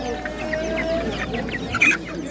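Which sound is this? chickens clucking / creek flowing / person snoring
chickens clucking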